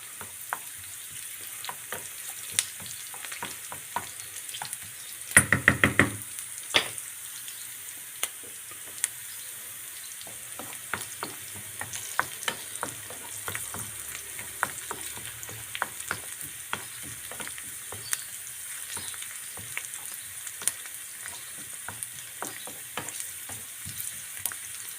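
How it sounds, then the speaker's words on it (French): Onion and leek sizzle steadily in hot olive oil in a pan, a continuous close frying hiss dotted with crackles and pops, with a brief louder clatter of stirring early on. "Alors là, l'oignon commence à suer, là, il commence à changer de couleur."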